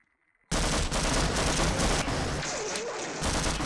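A tank fires in the Half-Life video game, setting off a loud, sustained barrage of blasts and explosions that erupts suddenly after a near-silent start and rumbles on continuously.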